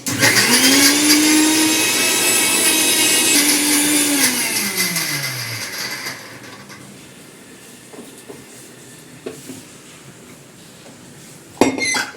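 An electric mixer grinder whirs loudly as it grinds lemon peels with water for about six seconds, then winds down and stops, leaving quiet room sounds and a sharp clink of the jar.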